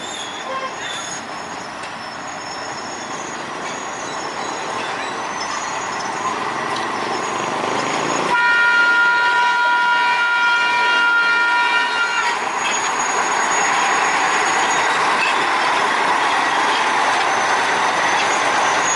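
A sugar cane factory locomotive at the Kedawung sugar mill rolls past at night with carriages in tow, wheels rumbling and squealing while a long horn blast sounds close by.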